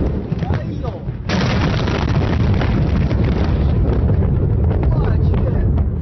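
Roar of the massive explosion at Tianjin port heard from a distance at night, a sudden jump into a loud, sustained rumbling blast that keeps roaring for several seconds.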